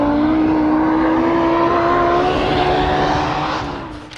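Audi Quattro S1 rally car engine roaring loud and close, a sustained high-revving drone with a rising tone that holds steady before easing off at the end.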